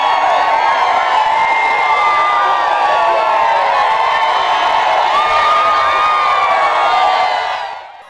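A crowd of protesting women in Amuru wailing in a land dispute, a loud sustained chorus of high keening voices rising and falling together, close and unbroken before fading at the end.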